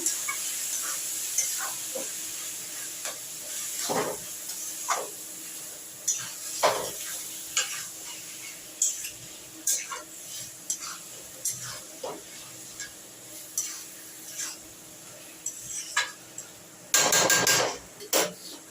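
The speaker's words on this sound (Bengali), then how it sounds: "এখানে মোচাটাকেও দিয়ে এবার একটু হালকা হাতে কষে নেব" Banana flower sautéed in a pan with a light hand for a prawn and coconut dish: scattered scraping and knocking of a utensil against the pan, with a soft sizzle underneath and a louder rattling burst near the end.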